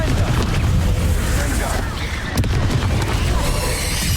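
A Confringo fire spell blast erupts in Hogwarts Legacy amid a busy spell-casting fight, dense continuous booming and crackling with a sharp hit midway, loud throughout.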